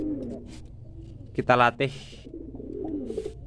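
Domestic pigeons being trained coo in a short burst of throaty calls, close and clear, while someone talks over and around them.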